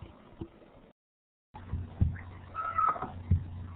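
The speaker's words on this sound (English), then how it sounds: "my cat's yelling" A house cat meowing loudly near a computer microphone during a video call, a few drawn-out cries amid muffled room noise after a brief dropout in the line.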